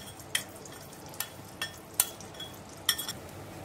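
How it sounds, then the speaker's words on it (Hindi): Butter and crushed garlic frying in a pan with a faint steady sizzle, broken by several light metallic clinks of a utensil against the pan. "सबसे पहले बटर और गार्लिक को फ्राई करूंगी 2 मिनट तक।"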